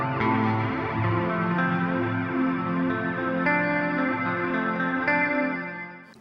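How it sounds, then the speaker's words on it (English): A guitar reverb effect pedal turned up to maximum produces a long, shimmering, chorus-like modulated trail of sustained tones. It swells and slowly decays over several seconds with no talking. "when you max it out, you still get a long trail, nearly infinite, decaying reverb type of thing."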